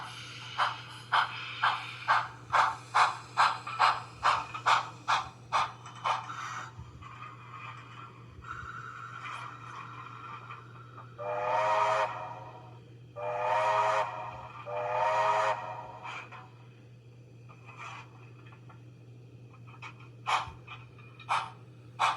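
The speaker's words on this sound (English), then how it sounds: "Nothing better than the bark of a locomotive under load." A Rapido USATC S160 model steam locomotive works hard under load as if climbing a grade, giving a quick run of sharp rhythmic chuffs, then slower breathy exhaust bursts and a few scattered puffs over a steady hum.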